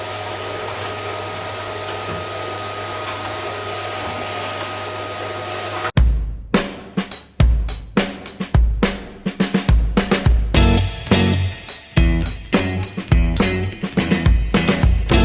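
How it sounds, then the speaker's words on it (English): A vacuum cleaner hums steadily and loudly for about six seconds, then cuts into a rapid series of uneven bursts and surges, with sharp restarts and strong suction roars close by. "But I made a mess. Time for vacuuming."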